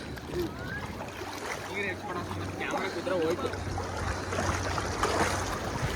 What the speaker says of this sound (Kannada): waves opposite ಹೊಡಿತಿದೆ